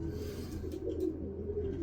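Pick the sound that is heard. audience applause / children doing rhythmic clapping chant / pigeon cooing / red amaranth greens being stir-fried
pigeon cooing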